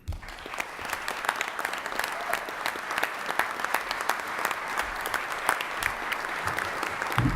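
A town meeting audience gives sustained, steady applause, dense hand clapping at even strength from start to finish with no talk over it.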